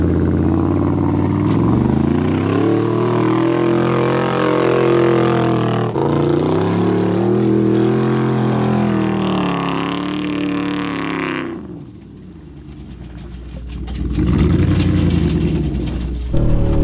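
A cammed, lifted Chevy Tahoe with a 450 horsepower engine revs hard while stuck in mud, rising and falling in long loud pulls, then briefly cuts off before roaring again.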